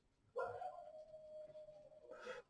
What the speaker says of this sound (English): listening to the dog howl next door